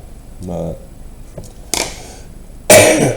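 A few separate harsh coughs close to the microphone, the last one loudest, with brief quiet gaps between them.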